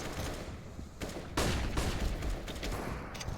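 AK rifle gunfire in the video game Counter-Strike during a professional match, heard as quiet rapid bursts and sharp volleys of shots at close range, with the loudest burst midway through.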